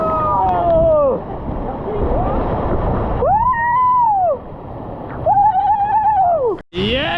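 Owia Waterfalls in St. Vincent gives a steady rushing roar of falling water, close and continuous, partly covered by excited whooping and shouting voices before a sudden cut near the end.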